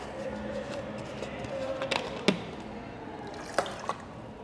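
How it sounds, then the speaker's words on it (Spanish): Water trickles and drips into the tank of a Karcher SC 3 steam cleaner, a faint splashing fill with a few sharper plinks and knocks, quiet and close. "es más, vamos a ponerle agua."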